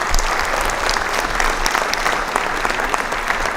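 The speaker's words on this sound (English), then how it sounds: "So I hope you guys don't mind a big round of applause for them." A crowd at a mayor's community night out gives a big round of applause, dense and loud clapping sustained evenly throughout without a break.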